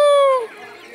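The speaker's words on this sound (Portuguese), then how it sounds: "As galinhas aí, mais ou menos aí," A chicken gives a short, loud, tonal cluck or squawk that trails off quickly, close by and alone.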